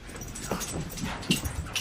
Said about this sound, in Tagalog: Annoying puppies.